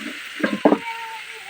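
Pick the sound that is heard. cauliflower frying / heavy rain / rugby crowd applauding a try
cauliflower frying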